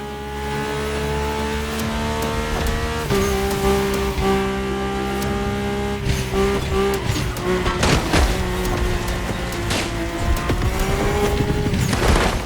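Mercedes-AMG One racing in The Crew Motorfest, its engine holding a loud, sustained tonal drone that shifts pitch as it accelerates, with tire squeal and gritty bursts of road noise throughout.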